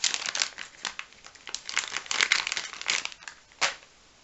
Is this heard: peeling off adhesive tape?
yes